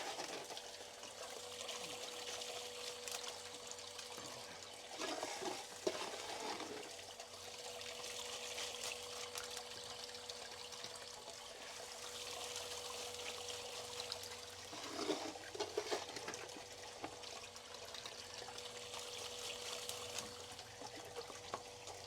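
A gold sluice rig runs with a steady, close wash of flowing and splashing water throughout, brief surges of churning breaking through the continuous rush.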